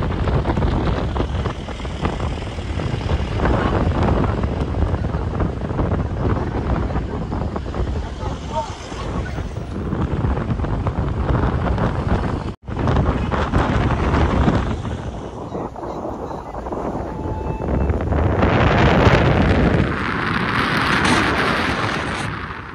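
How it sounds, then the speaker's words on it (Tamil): Strong, relentless wind roars across the Pamban bridge at Rameshwaram, a loud broadband buffeting that swells and eases with gusts, with no voices over it. "என்னால் பிரிட்ஜில் நிற்கவே முடியல. அந்த அளவுக்கு காற்று ஆளையே தள்ளுது."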